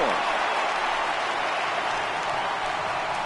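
A stadium crowd cheers and applauds a base hit in the baseball video game MLB The Show 18, a dense sustained roar at steady loudness throughout, with a commentator's voice faintly under it.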